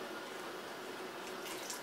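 Wort poured into a frying pan while homebrewing a pilsner, a steady, soft stream of liquid splashing like running water, continuous and fairly quiet throughout.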